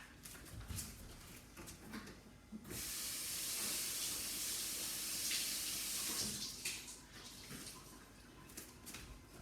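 Water gushes steadily from a tap for several seconds to wet an item, loud and broadband, with quieter handling noises before and after.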